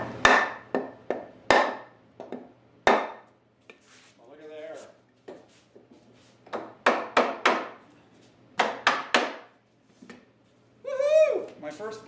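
A wooden breadboard end is knocked onto a wooden farmhouse tabletop with a block of wood. Sharp, hollow knocks come close and loud in irregular clusters, with brief vocal sounds mixed in between them.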